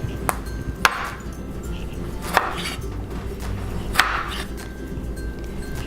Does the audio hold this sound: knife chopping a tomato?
yes